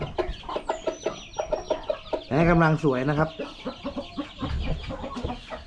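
Three-month-old chickens on a farm cluck in quick, repeated bursts nearby. A louder, drawn-out call rises partway through, and someone talks over the flock.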